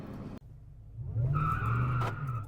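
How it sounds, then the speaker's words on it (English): Tires of a 700 HP 6.2L Ford Raptor truck spinning on launch, with a loud engine growl and blower whine building under a rising squeal of rubber on pavement, close and continuous after a brief opening rumble. "It's just spinning tires."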